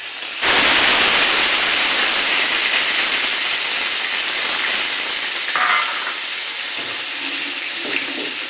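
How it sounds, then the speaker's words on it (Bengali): Onion paste hits hot oil already tempered with green cardamom and cinnamon, bursting into a loud, steady, close sizzle that holds for several seconds before easing slightly, with faint utensil stirring later. "এবার আমি পেঁয়াজ বাটাটা দিয়ে দেবো।"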